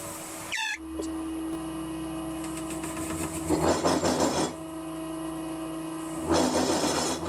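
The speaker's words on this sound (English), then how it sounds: "now it's time to remove a lot of material and make the chips really fly" Machine cutting heavy material from a workpiece, a loud steady mechanical whine with bursts of harsh, rattling chatter as chips fly, alone without talk.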